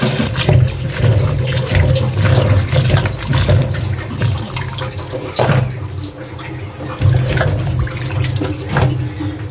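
Tap water runs steadily into a sink while okra and other vegetables are washed, a continuous close splashing flow with brief dips and surges and no talk.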